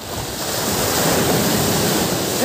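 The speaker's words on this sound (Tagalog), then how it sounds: "kita mo yung alon dito" Ocean waves breaking on a shore during a fishing outing, a continuous near roar of surf with some wind buffeting the microphone and no voices.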